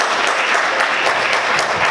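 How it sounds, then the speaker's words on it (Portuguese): A church congregation claps loudly and steadily in unison, a dense, close wash of applause with no voices above it. "Vamos aplaudir Jesus bem forte."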